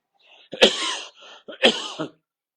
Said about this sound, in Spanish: Si me ven toser es porque estoy recuperándome de un resfrío